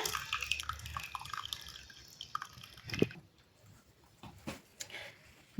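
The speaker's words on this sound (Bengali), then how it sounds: "জাল দেওয়ার পরে কিন্তু আবার ওইভাবে ছেঁকে নিতে হয়" Boiled sugar syrup for a banana chewy pie being strained, with scattered drips and small liquid splashes falling at an irregular pace, fairly faint and close.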